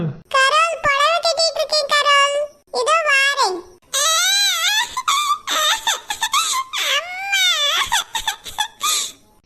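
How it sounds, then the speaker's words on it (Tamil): A baby cries loudly and close by, with long, wavering wails broken by short pauses for breath. "பாப்பா அழுதுகிட்டு இருக்காக்கா"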